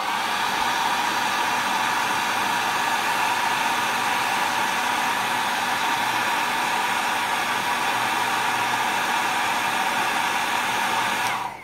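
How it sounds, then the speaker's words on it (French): A hair dryer blows on parts of a Fujimi 1/24 Ferrari F430 Challenge model car kit, a steady, loud, unbroken whoosh with a faint whine that holds for about twelve seconds before cutting off. "petit coup de sèche-cheveux encore"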